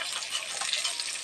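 Fish sizzles and crackles steadily in hot oil in a pan, a close, continuous hiss without pause.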